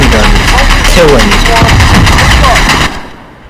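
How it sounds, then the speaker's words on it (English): Machine gun fire in the Call of Duty Modern Warfare campaign, loud rapid bursts mixed with engine rumble and someone talking over it, cutting off abruptly near the end. "Oh man, I mean, a freaking machine gun."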